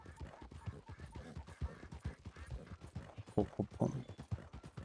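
Horse hooves gallop in the Red Dead video game, a rapid, continuous clip-clop rhythm at moderate distance with faint background ambience.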